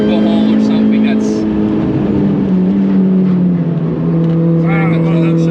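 A Mini Cooper S R53 drives the Nürburgring, its engine a loud, steady interior drone whose pitch slides gently down and up as speed changes, with people talking over it.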